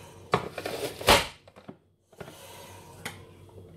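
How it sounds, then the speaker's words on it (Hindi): A knife chops tomatoes on a board in a kitchen with a few sharp taps, a cluster early and another later, quiet and close. "इसमें साथ ही में मैं टमाटर भी ऐसे ही चॉप कर लेती हूँ"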